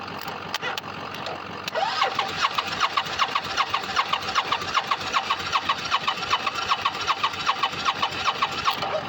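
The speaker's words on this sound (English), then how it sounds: "Because like I said, that starter solenoid is staying engaged." A car's starter with a stuck solenoid cranks the engine continuously, a rapid rhythmic whirring chug repeating evenly for several seconds after a brief click at the start.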